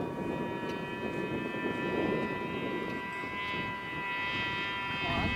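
A radio-controlled Nieuport 28 model airplane flies overhead, its small engine giving a steady, high buzzing drone at moderate distance, with faint voices and outdoor background noise beneath.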